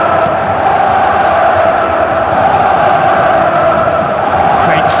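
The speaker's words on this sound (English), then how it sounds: "Well, the crowd clearly like what they just saw." A stadium crowd roars in an eFootball match, a dense, loud, sustained wash of cheering that holds steady throughout.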